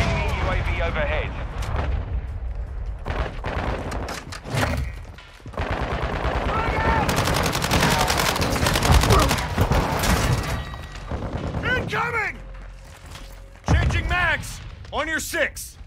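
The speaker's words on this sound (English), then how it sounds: "I'm taking fire!" Dense Call of Duty gunfire, near-continuous loud bursts and booms with in-game voice callouts and radio chatter woven through the fighting.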